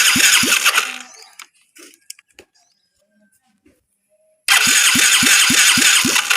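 A Yamaha Mio J scooter engine with lost ignition cranks on its electric starter in two bursts, loud and close, with quick rhythmic chugging pulses and a quiet gap of small clicks and handling noises between them.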